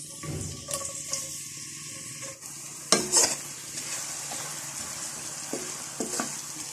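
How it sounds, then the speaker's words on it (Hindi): Finely chopped onions frying in oil in a kadai, a soft steady sizzle with scraping stirs and clinks of a spoon against the pan, moderately close. "प्याज को ब्राउन होने तक फ्राई कर लूँगी।"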